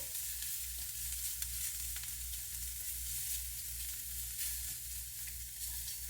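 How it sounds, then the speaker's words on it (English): Ham sizzling in a frying pan, a steady close crackling hiss that holds evenly throughout with no talk over it. "Get it sizzling."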